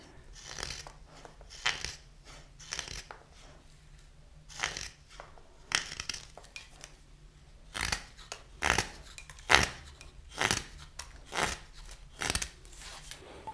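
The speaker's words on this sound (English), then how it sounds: "you go in with the knife to the direction of the wood, cutting the wood like this" Knife carving wood, a series of close, crisp cutting and shaving strokes at an irregular rhythm, growing more frequent and pronounced toward the end.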